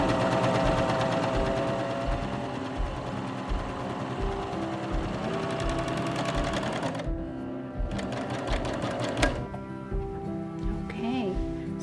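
Serger sewing machine running a 4-thread overlock stitch, a fast steady mechanical whir with rapid needle rhythm, loud and close, easing off near the end as the machine stops.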